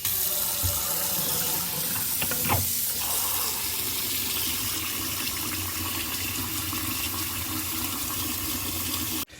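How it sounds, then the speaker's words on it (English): Cold tap water runs steadily into a sink basin, a continuous rushing fill with a brief clunk early on, close and fairly loud. "I have 2 basins here, and this one I'm just gonna fill up with cold water."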